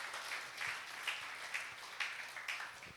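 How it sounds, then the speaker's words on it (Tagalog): Congregation at a church service applauding the Lord, a modest crowd's clapping that swells in rhythmic surges about every half second, moderately distant. "malakas sa palakpak sa Panginoon"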